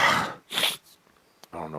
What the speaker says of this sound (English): I don't know what's making me sneeze